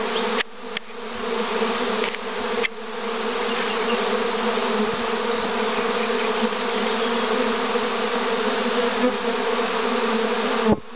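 Swarm of honeybees settling in an apple tree in April, a dense continuous loud buzzing drone close by, with no talk over it.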